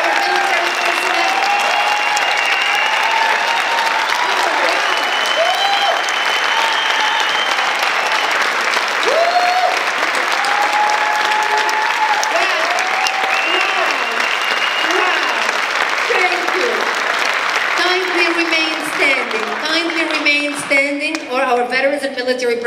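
A large audience at a speaking event in Twin Falls, Idaho, applauds veterans and military personnel with loud, sustained clapping, and a few voices rise near the end as it continues.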